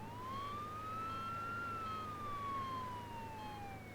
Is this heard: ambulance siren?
yes